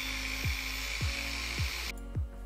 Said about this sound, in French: Débutons par la coupe de cette pièce de métal.